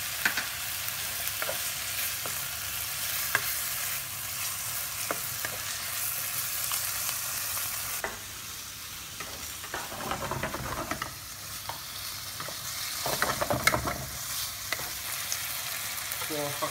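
Pork belly stir-frying in a pan with water just added, for a Thai red curry and long bean dish: a steady, close sizzle with scraping stir strokes, swelling into louder bubbling hiss partway through.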